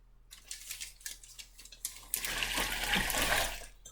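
Water runs from a sink tap and is poured into a colored Ziploc bag, starting as a light trickle and swelling into a steady, close rushing pour for the last half.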